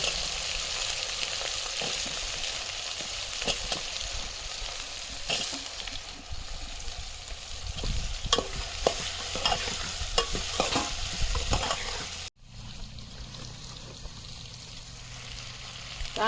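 Potatoes sizzle in a pan while a utensil stirs and scrapes through them, producing a continuous frying hiss with irregular scraping clicks, then a sudden drop to a quieter sizzle near the end.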